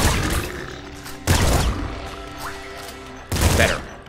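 Double shotgun blasts in the Nuclear Throne video game, three loud booming shots spaced irregularly, each a broad burst that decays over a second amid game noise, with no talk.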